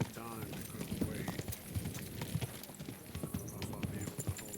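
Horse hooves clip-clopping in the medieval video game Kingdom Come Deliverance 2, a close, busy run of hoof knocks with a brief whinny, under a low murmur of talk.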